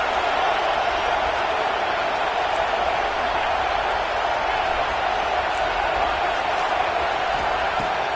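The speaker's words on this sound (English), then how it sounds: "Listen to this crowd just shaking the girders of this place, trying to help their defense." Steady roar of a packed stadium crowd in a college football video game, a dense, continuous wall of cheering and noise holding at constant loudness throughout, with no clear breaks or individual voices.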